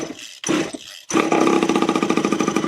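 A mini moto engine pull-started with the choke on: two short cranking bursts, then the small engine catches and runs loud and close with a rapid, pulsing buzz.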